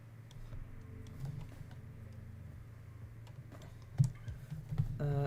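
Soft, irregular clicking of keys being typed on a computer keyboard, fairly quiet and close over a low steady hum, with a few sharper taps near the end.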